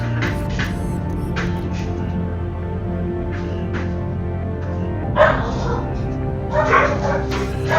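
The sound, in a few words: dogs barking in a video game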